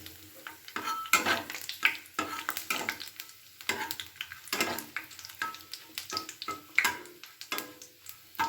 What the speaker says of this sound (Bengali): লঙ্কাটাকে একটু ভালো করে লাল করে ভেজে নিচ্ছি